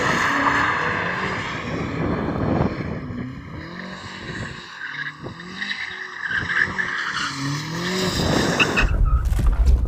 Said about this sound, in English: Before we race, shall we warm up our tyres?